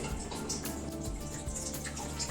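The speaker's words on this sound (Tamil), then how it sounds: "பெரிய பாத்திரம் வச்சுட்டு தண்ணி ஊத்துறோம்." Water poured into a large cooking pot, a steady continuous splashing rush that runs through the whole moment at close range, with no voices over it.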